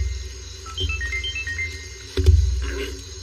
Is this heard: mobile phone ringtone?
yes